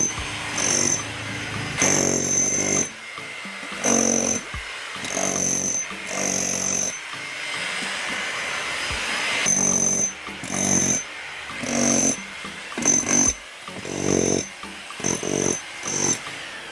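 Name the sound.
jackhammer breaking up concrete steps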